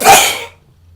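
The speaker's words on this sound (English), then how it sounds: "I'm gonna sneeze." A single sharp human sneeze bursts out loudly and close, then cuts off quickly into near silence.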